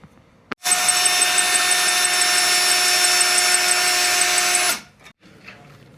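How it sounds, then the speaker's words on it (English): A power drill whirs loudly and steadily for about four seconds, starting abruptly after a sharp click and then winding down to near quiet, as it bores through steel while mounting a BMW oil cooler. "we were struggling with the drill"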